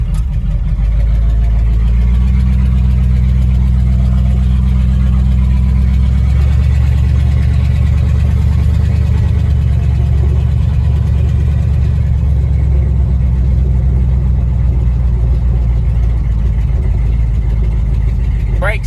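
A 1955 Buick with rebuilt exhaust and generator on a road test, its engine droning low and steady from inside the car for the whole stretch, rising slightly under throttle, with speech underneath.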